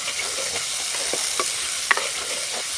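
Curry leaves and garlic sizzle in a hot pan while a spoon stirs them, scraping lightly several times against a steady frying crackle, close and clear with no talking.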